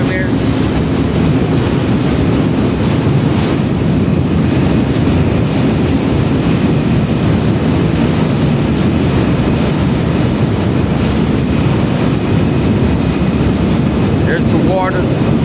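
A freight train boxcar rolls loudly and continuously along rails, giving a dense, steady rumble with rattling and clatter from up close for the whole stretch.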